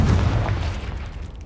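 A Confringo blasting spell explodes in a Harry Potter video game, a deep, loud boom that rumbles on for the whole moment with no voice over it.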